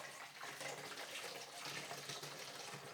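Film developer solution made from CineStill powders is poured and mixed, giving a steady, quiet liquid rush with no pauses.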